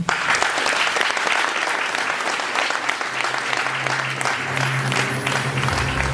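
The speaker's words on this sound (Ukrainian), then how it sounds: "І за це теж оплески вам." Steady, dense applause from a large crowd at a festival closing ceremony in Ukraine fills the whole stretch, loud and continuous without pause.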